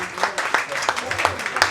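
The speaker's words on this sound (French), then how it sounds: "que vous pouvez d'ores et déjà applaudir très fort" An audience applauds at a fashion show, a short close burst of dense clapping with a voice faintly mixed in.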